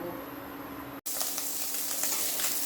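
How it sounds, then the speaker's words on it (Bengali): Prawns fry in a hot pan with a loud, steady sizzle, broken by a brief drop to silence before the crackle resumes even stronger, with no voices. "চিংড়ি মাছগুলো আমার ভাজা হয়ে গেছে"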